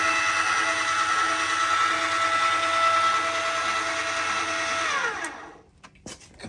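Stihl stump grinder engine running steadily and loudly up close with strong harmonic whine, then spinning down and cutting off near the end.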